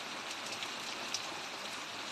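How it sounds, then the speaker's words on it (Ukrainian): Steady rain falls during an evening thunderstorm, a dense even hiss of drops with no thunder or voices, heard at moderate level throughout. "дощ, грім, блискавка"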